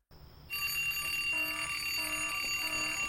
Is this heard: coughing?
no